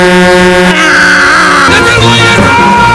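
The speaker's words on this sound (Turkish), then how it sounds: "Dünya içinden bastı bunlar hala korna çalıyor" A loud, sustained truck horn blares continuously in Euro Truck Simulator 2 on the Duisburg–Calais road, its droning tones shifting in pitch partway through.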